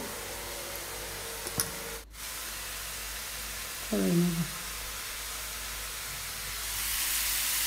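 Boiled chow mein is stir-fried in a hot kadai, giving a steady loud sizzle and hiss that runs throughout, with a short voice partway through and a scrape or two of tossing.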